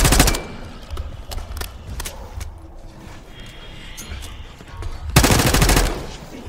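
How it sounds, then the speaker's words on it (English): Bursts of rapid automatic gunfire in a Call of Duty Black Ops 6 video game crackle loudly at the start and again near the end, with scattered single shots and low rumble in between. "You hearing gunfire? Yeah, sounds like it's coming from one of the lower floors."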